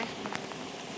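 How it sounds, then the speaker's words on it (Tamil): Steady rain falling, a soft continuous patter with a few scattered louder drops, moderately close and fairly quiet, with no talking. "மழை சத்தம் கேட்குதா கைஸ் உங்களுக்கு?"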